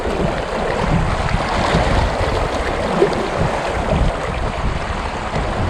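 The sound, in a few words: fast-moving river water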